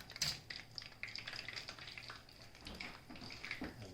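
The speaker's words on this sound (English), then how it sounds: "Now just gonna let that fry until it's well, nice, crispy, and golden brown." French fries sizzling in hot oil during their second frying for fish and chips, a steady soft crackle and bubbling with faint irregular pops, close and fairly quiet, no voices.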